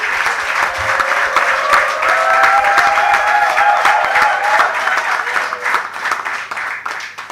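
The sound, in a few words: audience applause at memorial lecture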